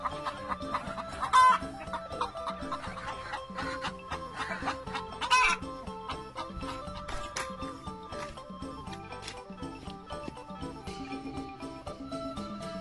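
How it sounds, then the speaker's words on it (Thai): Chickens on a farm cluck and chatter continuously nearby, with a couple of louder bursts of calls amid other faint farmyard sounds. "หลังจากที่ให้อาหารไก่เสร็จเรียบร้อยแล้วนะคะ"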